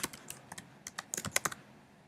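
Code typed on a computer keyboard, a close run of separate key clicks in uneven bursts that speed up toward the end, with no voice.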